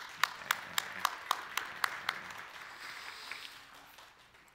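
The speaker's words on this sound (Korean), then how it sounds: "우리 격려의 박수를 보내드리면 좋겠습니다" Church congregation clapping at a New Year's Eve service: a run of evenly spaced sharp claps in unison, then softer scattered clapping that tapers off, fairly quiet and distant.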